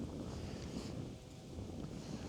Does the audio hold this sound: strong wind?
yes